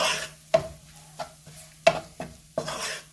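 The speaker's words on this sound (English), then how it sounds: "Let the spices fry for about 20 seconds" Spices fry briefly in a pan for a spinach curry, giving a soft, close sizzle broken by several sharp stirring scrapes and clinks of a utensil against the pan.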